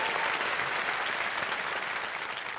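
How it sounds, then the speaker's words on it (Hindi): A studio audience on the quiz show KBC Under 25 claps warmly for a contestant's parents, a dense, even wash of applause from the whole crowd that eases a little toward the end. "तालियां बज जाएं इनके लिए।"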